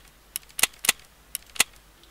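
Sharp gunshots in Escape from Tarkov, a shotgun among them, heard as five or six crisp, dry cracks in an irregular quick sequence against a quiet background.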